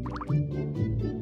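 Cartoon water splashing as soap is rinsed off a letter, with a few quick bubbly plops and drips over a soft musical background, brief and close.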